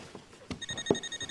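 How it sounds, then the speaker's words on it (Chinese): Mobile phone ringing indoors during a family dumpling-making scene, a faint repeating electronic ring tone starting partway through, quiet and steady with soft room sounds beneath. "你电话"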